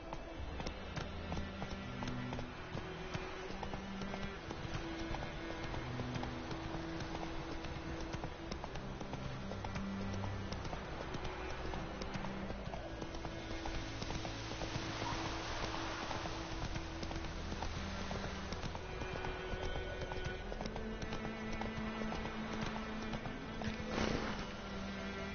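Steady clip-clop of Roach the horse galloping in The Witcher 3, a continuous rhythmic hoofbeat under in-game music, with no talking over it.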